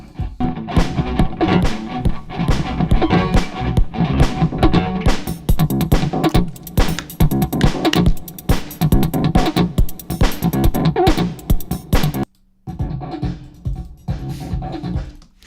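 A music track run through an Airwindows console plugin with pan and fader, playing loud and full with a steady rhythmic beat, briefly cutting out near the end before resuming.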